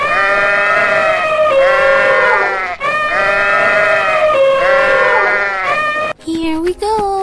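Loud, repeated wavering sheep bleats come in two long bursts, close and bright, followed by a brief change to a different short cry at the end.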